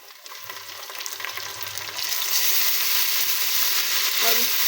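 Golden fried onions in a pan with a spoon of ginger garlic paste added, cooking for a mutton bitter gourd curry; a steady close sizzle that grows louder and denser partway through, with faint stirring and no talk.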